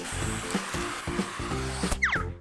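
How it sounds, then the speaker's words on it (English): A vacuum pulling the air out of a big bag stuffed with balloons gives a steady motor whine with rhythmic rumbling pulses, then the bag crinkles and squeaks near the end, close up and with no voices. "vacuum all the air from the bag"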